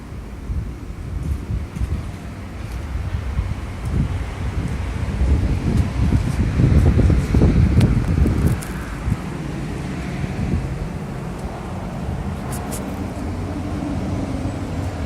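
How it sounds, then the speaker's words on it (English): Wind blows outdoors on a dark evening, buffeting the microphone with a constant low roar that gusts strongest midway before settling back to a steady rush. "It's windy."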